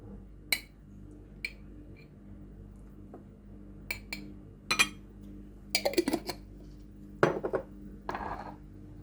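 A utensil scrapes and clinks against a bowl while coleslaw is mixed with mayonnaise, sparse sharp taps and clatters scattered over several seconds, close and otherwise quiet.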